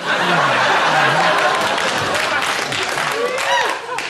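Studio audience bursts into applause mixed with chuckles and laughter on a sitcom set, a full, close wash of clapping that swells and then fades slightly toward the end.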